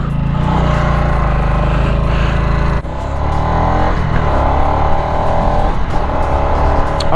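A Harley-Davidson Nightster motorcycle being ridden gives a loud, close engine drone throughout, with a brief dip in the middle as the revs shift before the steady rumble picks back up.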